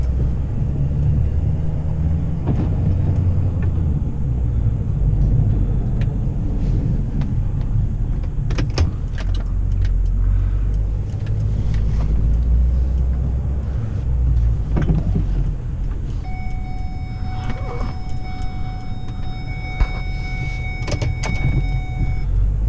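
A vehicle rumbles steadily while plowing wet, unfrozen snow off a driveway, a continuous low engine drone with scattered scraping and clunks throughout, heard alone without talk.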